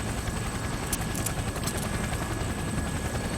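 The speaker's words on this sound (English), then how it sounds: "By this time, the helicopter is descending close enough to the roof that June and S" A helicopter descends toward a rooftop in the Persona 4 Arena Ultimax video game, giving a steady, loud rotor roar that fills the whole stretch.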